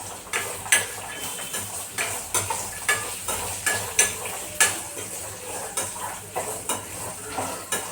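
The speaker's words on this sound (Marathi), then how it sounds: "त्याच्यात मी शेंगदाणे टाकणार आहे कारण काय शेंगदाणे आपल्याला असे छान फुटफूस होईपर्यंत भाजून घ्यायचे" Peanuts dry-roasting in a pan until crisp and golden, a steady crackle and sizzle with a spoon or spatula scraping and stirring every second or so, close up and without talk.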